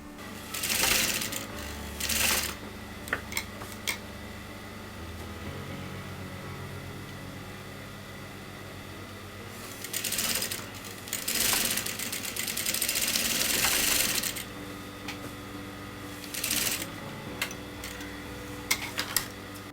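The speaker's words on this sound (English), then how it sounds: "I'm going to sew that together" A sewing machine stitches kameez pieces together in several short, fairly quiet runs of rapid mechanical whirring, with softer handling noises in the pauses between them.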